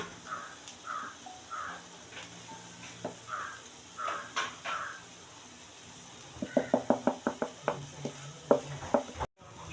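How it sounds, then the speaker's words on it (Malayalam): Garam masala and spice powders are stirred in a frying pan with a run of sharp scraping clicks in the second half. Crows caw repeatedly in the background before and during the stirring. "അപ്പം നമുക്ക് ഒന്ന് ഇളക്കി കൊടുക്കാം"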